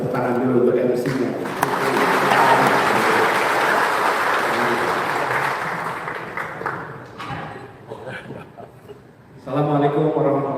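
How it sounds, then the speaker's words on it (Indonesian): An audience at a political declaration event applauds the MC in a sustained round of clapping lasting several seconds, with a voice speaking before and after it. "Kita kasih tepuk tangan dulu untuk MC-nya."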